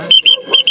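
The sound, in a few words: person whistling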